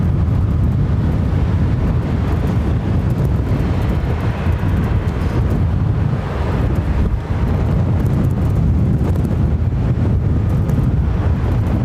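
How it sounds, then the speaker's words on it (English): Crosswind gusts buffet the microphone at London Heathrow Airport, a loud, continuous low rumble of wind noise with no one speaking. "Yeah, there's that crosswind"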